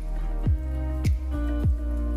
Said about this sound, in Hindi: ग्रेवी में देखिए अच्छा उबाल आने लगा है